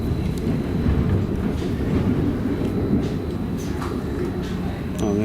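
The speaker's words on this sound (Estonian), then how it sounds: "see rong sõidab samas suunas, kus meie." A train runs on rails during a trip in Switzerland and Liechtenstein, a loud steady low rumble with faint squeals and clicks, and people's voices are also heard.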